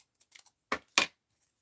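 Scissors cutting paper for an art journal, a couple of short crisp snips close up after a few faint ticks, otherwise quiet.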